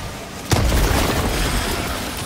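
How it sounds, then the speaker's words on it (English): A grenade explodes in the video game Helldivers 2, a single sudden boom that rumbles and fades into a lingering roar. "Throwing grenade!"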